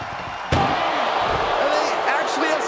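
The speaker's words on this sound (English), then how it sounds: "Trying to force the first door closed." A heavy ambulance back door is slammed hard once during a wrestling match, with a sharp close bang followed by scuffling and muffled shouting under crowd noise.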